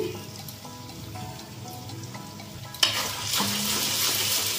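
Spice masala of cumin, coriander, chilli and turmeric powders frying for a Sunday mutton curry, a low sizzle that jumps into a louder, brighter fry partway through, steady to the end.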